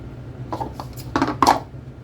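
Four eggs cracked and dropped into a glass bowl for cake batter, a quick series of small clinks and wet taps, with two louder knocks near the end, close up and without talk.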